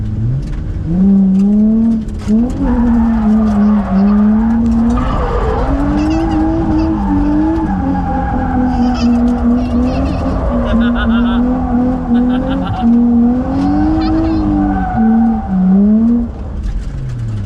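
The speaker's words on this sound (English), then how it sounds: "we do big burnouts now, Bossy." Car doing big burnouts at a drifting session, engine revving hard and rising and falling in waves as the tires squeal and skid, loud and close, with people talking over it.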